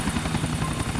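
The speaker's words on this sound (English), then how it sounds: "that helicopter was in two movies" A military helicopter flies in the GTA 4 game world, its steady rotor chop and engine whine loud and continuous throughout the short stretch, with no voices.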